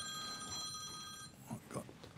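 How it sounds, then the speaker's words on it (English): A telephone rings with a steady electronic warble during a boxing press interview, a bright repeating tone for about a second before it stops and background chatter and movement take over. "who's that ringing here?"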